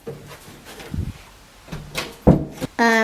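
A few thuds and clunks of a door or cupboard moving and shutting nearby, ending in a sharp close, with a brief tonal beep right after.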